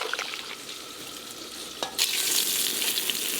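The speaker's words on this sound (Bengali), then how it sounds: "তেল গরম হয়ে গেছে, এবার বেগুনগুলো ভেজে নেব।" Eggplant slices frying in hot oil produce a close, steady sizzle with a few crisp pops and a scrape, then a sudden louder hiss of spattering oil takes over.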